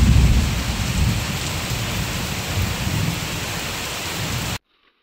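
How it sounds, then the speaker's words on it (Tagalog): Heavy rain pours steadily with the deep rumble of a strong thunderstorm during a typhoon, loud and continuous before cutting off abruptly near the end. "sobrang lakas ng thunderstorm"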